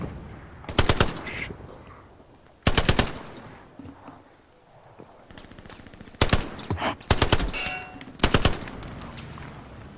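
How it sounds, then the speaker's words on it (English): Machine gun fire in the Hell Let Loose video game, several loud sustained bursts separated by short pauses, with softer background battle noise between them. "Somebody got an MG."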